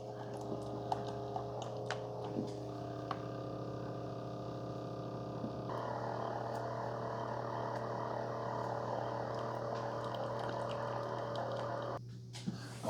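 A Hamilton Beach FlexBrew single-serve K-Cup coffee maker pumps water through a K-cup: a low electric hum with scattered clicks, which swells into a fuller whirring, gurgling drone partway through before cutting out near the end.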